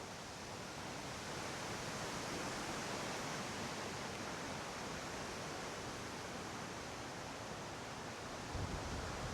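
Steady, intense roar of wind buffeting across the whole clip, a dense broadband rush with no pauses and no voices.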